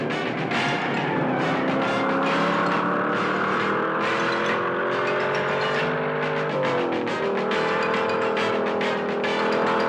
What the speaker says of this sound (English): It's time for a car chase.